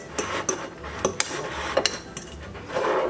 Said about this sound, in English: So we're just stirring that up just like that.